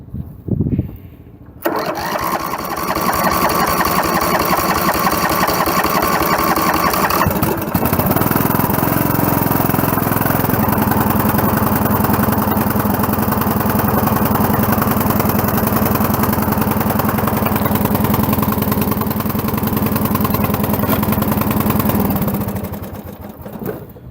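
A Murray lawn mower engine cold-starts after a brief pull, then runs on choke with a loud, steady mid-pitched drone that shifts slightly in tone before cutting off near the end.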